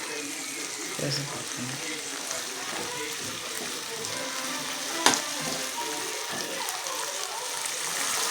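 Coconut and a small piece of ginger sautéing in a pan for a curd tomato chutney, a continuous sizzle with occasional stirring scrapes and one sharp clink midway, under light background noise.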